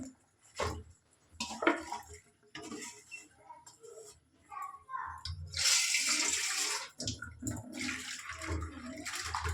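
Dishes are washed under a running tap at home, with bursts of splashing water and clinking utensils coming in irregular spurts, and someone talking in between.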